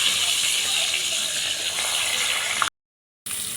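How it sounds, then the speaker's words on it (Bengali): A hilsa fish head sizzles in hot oil in a home kitchen pan, giving a loud, steady frying hiss that cuts out briefly before resuming. "মাছটা ভেজে নেব।"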